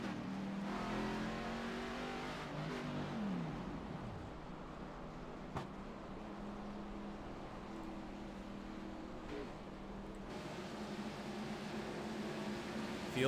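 Race cars in an oval-track racing video game drone steadily under caution, engines humming and revving in a continuous layered whine, with a few brief shifts in pitch as the field rolls around the track.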